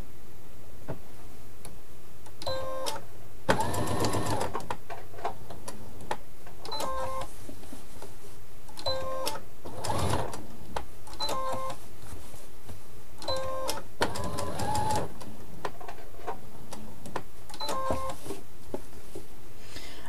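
A domestic sewing machine set to straight stitch runs in short, repeated bursts while stitching a fabric appliqué, each run a rapid mechanical chatter separated by brief pauses, close and clear against a quiet room.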